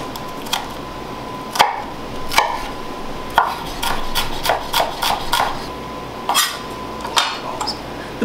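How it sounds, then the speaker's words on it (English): A knife minces a shallot on a cutting board: sharp, irregular taps, some in quick clusters and others spaced apart, close and fairly loud over a steady low room hum. "The first thing I'm going to do is mince the shallot."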